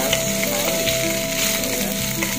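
Leftover chicken and green beans sizzle steadily in a hot pan for adobong green beans, a continuous close frying crackle with a few soft stirring clatters and no talking.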